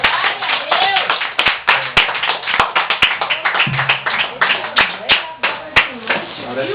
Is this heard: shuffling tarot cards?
no